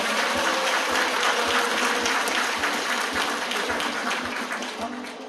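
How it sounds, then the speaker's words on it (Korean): Sustained applause from a crowd at a residents' general assembly held at a gateball court in a sports park, dense clapping throughout that gradually thins toward the end. "뜨거운 박수 부탁드리겠습니다"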